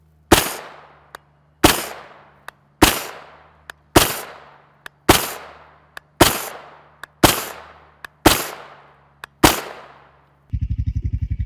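Nine sharp, loud gunshots from a PSA ARV9 16-inch 9mm rifle firing ZVS 124-grain FMJ rounds at 25 yards, evenly spaced about a second apart with brief ringing decay, followed by a short buzzing tone.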